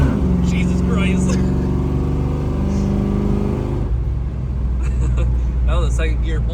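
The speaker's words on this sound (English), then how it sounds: "That was a second gear pull there." A Chevrolet Camaro upgraded by about 100 hp pulls hard in second gear, a loud rising engine drone that cuts off midway, followed by voices talking over a quieter idle.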